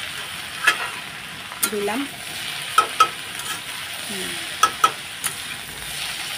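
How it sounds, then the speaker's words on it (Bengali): Potatoes frying in a pan for a home-cooked Bengali meal, a soft steady sizzle with a few sharp stirring clinks and scrapes, while a voice speaks briefly in between. "আলু ভাজাটা আগে করে নেব।"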